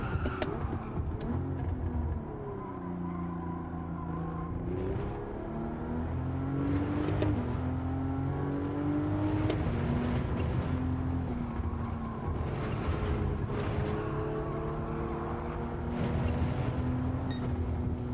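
Car engine in Gran Turismo 7 during a licence test on tricky consecutive corners, winding down as the car coasts and slows itself, a steady continuous drone with falling and shifting tones and no talk.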